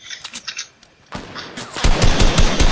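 Gunfire in Fortnite comes as scattered single shots, then a long, loud rapid burst of repeated cracks that builds toward the end, with no talking over it.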